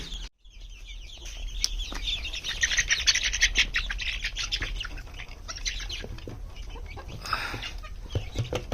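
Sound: chickens clucking

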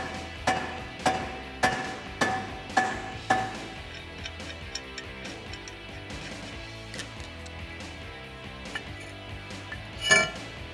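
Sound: mallet tapping on Mustang brake rotor

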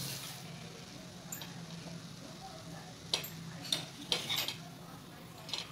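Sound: curd sandwich toasting in butter in a pan

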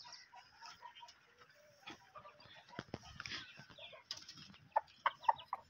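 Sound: aseel chickens clucking in cages

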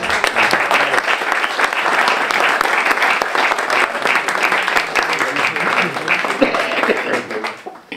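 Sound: applause for new Rotary club members

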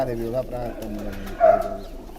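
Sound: pigeons cooing

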